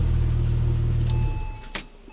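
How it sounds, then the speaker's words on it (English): A Porsche 996 radiator cooling fan whirring steadily alongside the running engine, then winding down and cutting out partway through, followed by a couple of brief clicks. "fan has just kicked in as well, so that's good"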